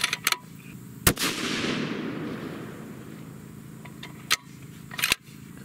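A single loud 7mm PRC rifle shot, loaded with H1000 powder and a Berger 195 EOL bullet, cracks close by and then rolls away in a long fading echo across the range, with a few sharp clicks and clanks afterward.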